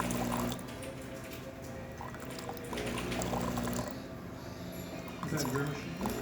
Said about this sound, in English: I don't have any coffee in the portafilter at the moment, it's just going to run water.